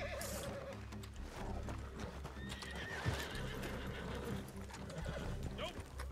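A horse in Red Dead Redemption 2 whinnies at the start while hooves clip-clop steadily along, joined by a few quiet voices and game ambience.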